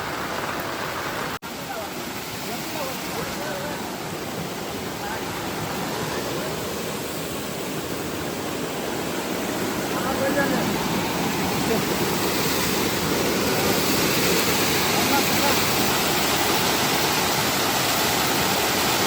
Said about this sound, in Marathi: पाणी बघा किती